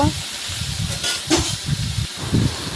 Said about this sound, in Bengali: তো সবগুলো মাছই আমি এখন ভেজে নেব।